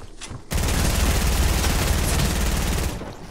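A burst of rapid gunfire from a PP gun in a Fortnite zone wars match breaks out after a brief quiet moment, dense and loud automatic shots running continuously before tapering off.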